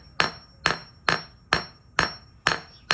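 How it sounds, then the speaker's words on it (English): A regular hammer taps shrink plastic jewelry pieces, seven sharp evenly spaced strikes about half a second apart, close and clear with no talking. "you can see how I'm tapping this with my regular hammer"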